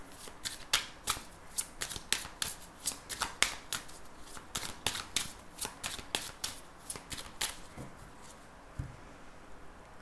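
Tarot cards are shuffled by hand before a reading, giving a quick run of crisp, papery riffling snaps, close and fairly quiet, continuing steadily for about eight seconds and then tapering off.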